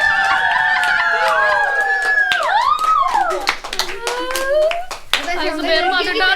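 Children clapping together at a small celebration, several bursts of sharp hand claps mixed with excited chatter and voices close by.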